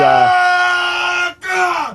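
A crowd of panicked villagers screams and wails in a film sound recording, loud and close, in a sustained tonal cry with a brief break before rising again.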